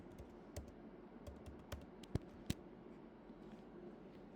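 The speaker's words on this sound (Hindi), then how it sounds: "पासवर्ड पहले टाइप कर लेता हूँ" Quiet, scattered keystrokes on a computer keyboard as a password is typed, a handful of soft clicks with two sharper taps near the middle, then a faint hush.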